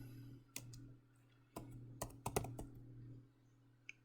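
Typing on a computer keyboard: a handful of sparse, crisp key clicks, clustered mid-clip with one quick flurry, close and fairly quiet over a low steady hum.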